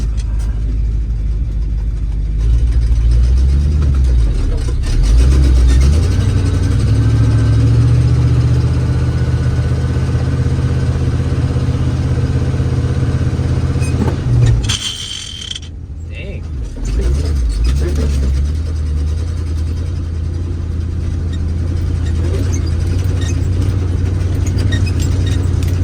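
A 1968 IH Fleetstar 2010 truck in underdrive, pulling onto scales with a load of soybeans, gives a steady low diesel engine drone that briefly dips before resuming, with someone talking over it.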